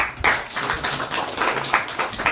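Lecture audience applauding, a dense stretch of clapping that runs steadily for a couple of seconds with small swells, moderately loud and close.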